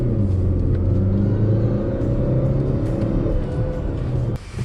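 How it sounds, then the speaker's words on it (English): A 2018 Mazda CX-9 SUV with a SkyActiv engine is heard from inside while driving, giving a steady low engine and road rumble with no voices. "The Sky Active engine could give out a little bit more pep to it"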